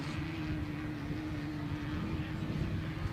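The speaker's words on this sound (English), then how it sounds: "Those air-cooled motors." Air-cooled engines of Class 11 off-road race cars drone steadily from a distance, a continuous rough hum holding level throughout with no clear speech.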